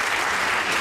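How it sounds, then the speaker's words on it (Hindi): A comedy talk-show studio audience claps in a brief, dense burst of applause, steady and loud from start to end with no voices. "क्यों तालियां बजा रहे हो?"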